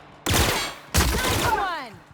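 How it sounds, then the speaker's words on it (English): Gunfire in the video game The Outer Worlds: two loud bursts of shooting, each with a sharp onset and a short decaying tail, close and alone. "Open fire!"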